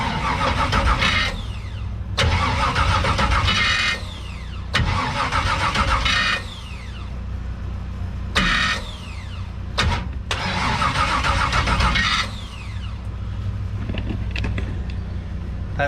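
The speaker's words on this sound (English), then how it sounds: "Oh, it turns over." A race car engine for figure-8 racing cranks repeatedly in loud, close bursts of starter churning with short gaps between tries, turning over without catching, no talking.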